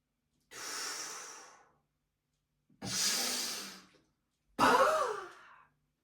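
Three long, breathy exhales during a Diamond breathing exercise, each a hissing release of about a second or more separated by silent pauses, close to the microphone, the last one strongest.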